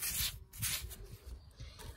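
A brush spreads thick grey waterproofing paint onto a garden fountain in soft, rhythmic rubbing strokes, faint and close.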